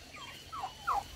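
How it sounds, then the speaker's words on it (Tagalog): Turkeys on a Filipino farm give a few short gobbling calls over quiet farmyard ambience, the last burst the loudest, with no one speaking. "Mga pabo namin, guys."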